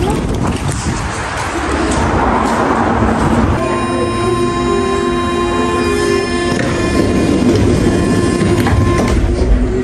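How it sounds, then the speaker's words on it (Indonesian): Interior of a moving train in Paris, with a loud continuous rumble and rattle, and steady tonal whine from the motors rising in midway and sustained to the end. "Kita sudah ada di kereta."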